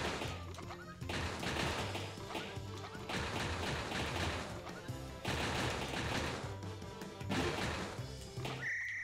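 Explosions and crashing from bombs being shot in the video game Kirby's Merry Magolor Land, coming in repeated loud bursts roughly every two seconds, with a sharp chime at the end.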